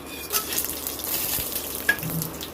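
Whole spices fry in four tablespoons of hot oil for potato curry, giving a soft, close sizzle with a couple of faint clinks from a pan and utensil, no voices.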